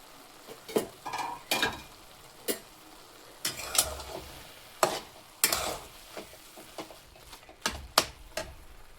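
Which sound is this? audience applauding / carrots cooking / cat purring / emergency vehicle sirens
carrots cooking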